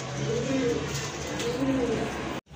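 A pair of khaki pigeons at a breeders' loft coos in low, rolling phrases, two soft bursts repeating close by over a steady background hum before cutting off abruptly.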